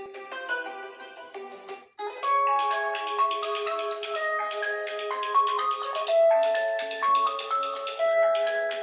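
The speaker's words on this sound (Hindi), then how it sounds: "यहाँ पर चला के देख लेते हैं कुछ रिंगटोन्स को" Several melodic electronic ringtones play one after another through a Realme 7 Pro phone speaker, bright and tinkly, with a brief pause between tunes.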